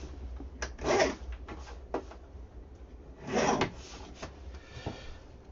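Scissors or a blade trimming a paper journaling label, with a few soft rasping cuts and rustles, two of them longer and louder, close and quiet with no talking.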